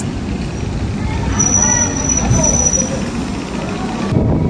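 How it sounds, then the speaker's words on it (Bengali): Sealdah Rajdhani Express passing Dankuni Junction, a steady loud rumble of rolling wagons with a faint high wheel squeal, heard over continuous background noise. "তো এখন আসছে আমাদের সামনে শিয়ালদা রাজধানী এক্সপ্রেস দ্য কুইন"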